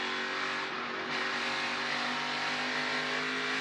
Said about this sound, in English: Heard Christian Rose have to get back out of the throttle, got in the throttle just a little bit too early